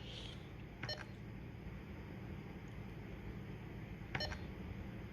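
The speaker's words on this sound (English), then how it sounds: "at this point, there's a high humidity alarm" Two short electronic beep bursts of a high humidity alarm on an environmental monitoring system, a few seconds apart, sound over a low steady background hum.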